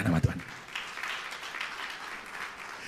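A church congregation breaks into applause, a diffuse crowd clapping that follows a short burst of a voice and carries on steadily at moderate loudness.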